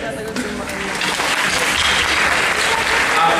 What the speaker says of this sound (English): By the way, let's round of applause for Ms.